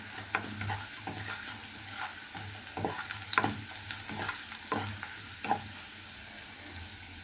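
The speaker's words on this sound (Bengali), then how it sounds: "পেঁয়াজটা আমি বাদামি রং করে ভেজে নিব।" Onions frying in oil in a home kitchen, a quiet steady sizzle with a low hum beneath and several sharp scraping stirs of a spatula against the pan.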